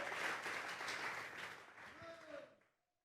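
A church congregation at a Thursday doctrine service claps together, a dense burst of applause that carries for about two and a half seconds and then fades to silence, with a voice audible near the end.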